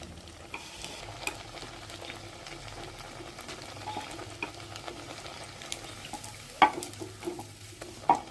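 Suji kakra pitha frying in hot oil, a steady close sizzle with occasional sharper clinks and scrapes as the pieces are stirred and lifted out, no voices.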